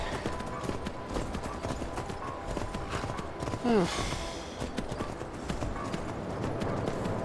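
Horse hooves from the video game Skyrim clip-clop in a steady rhythm over ambient game sound, with a short whinny partway through and a voice talking over it.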